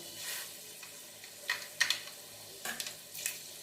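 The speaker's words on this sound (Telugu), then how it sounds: "ఇప్పుడు నూనె కాగింది కదండి, ఇదిగోండి మెంతులు వేసేస్తున్నాం" Fenugreek and mustard seeds drop into hot oil, giving a faint, light sizzle with a few brief crackling bursts and stirring clicks, with no voices.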